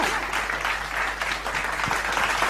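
An audience claps for a singer on stage at a Bengali singing show. The applause is a dense, steady patter of many hands, moderately loud and continuous throughout.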